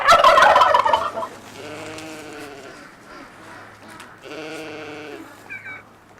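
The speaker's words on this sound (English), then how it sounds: "the American Bronze Turkeys" American Bronze turkeys gobble in rapid warbling bursts on a farm, one loud burst up front and two quieter gobbles later, with a soft steady hum underneath.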